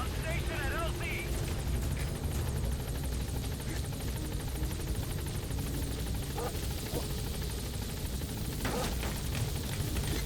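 Pequod, a helicopter in Metal Gear Solid V: The Phantom Pain, arriving at a landing zone with a steady, loud rotor and engine roar throughout, over a busy mix of game sound and voices.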